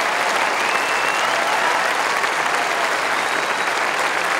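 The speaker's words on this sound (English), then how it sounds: "The applause here thoroughly deserved for one of the truly great players" A tennis crowd applauds Pete Sampras after the 1999 Queen's Club final, a dense, steady roar of clapping that holds loud and even from start to finish with no voices over it.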